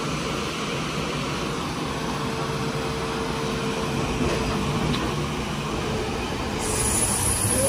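Passenger train pulling out of Skirotava station in Latvia: a steady rolling rumble with faint wheel squeal builds slightly as it gets under way, heard from on board with no talk.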